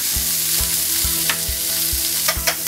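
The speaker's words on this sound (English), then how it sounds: "Get lots of air into the egg mix." Three eggs are whisked briskly for a courgette and goat's cheese omelette. A regular beat of bumping strokes runs against the bowl, with light clicks of the whisk close by.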